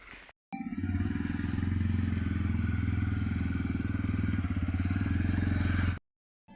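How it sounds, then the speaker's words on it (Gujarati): A motorcycle engine runs steadily at a constant rumble for several seconds, loud and close, then cuts off abruptly. "ચાલો તો આપણે બાઇક માંથી જવા દઈએ"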